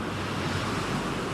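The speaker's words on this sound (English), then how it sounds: "Monster waves." Large ocean waves breaking at sea, a dense continuous roar of surf mixed with wind buffeting, loud and steady with no voices.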